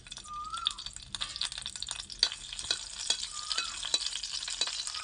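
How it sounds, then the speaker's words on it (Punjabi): Dried red chilies crackle and sizzle in hot ghee in a pan, a steady close frying hiss with scattered pops and occasional stirring scrapes, no talking. "ਲਓ ਜੀ ਆ ਦੋ ਤਿੰਨ ਲਾਲ ਮਿਰਚਾਂ ਨੇ ਸੁੱਕੀਆਂ ਹੋਈਆਂ ਆਪਾਂ ਇਹਨਾਂ ਨੂੰ ਐਡ ਕਰ ਲੈਨੇ ਆ"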